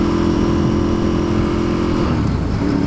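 A Ducati 848 Evo sport motorcycle engine drones loudly and steadily while the bike is ridden, with a continuous close-up rumble and no voices.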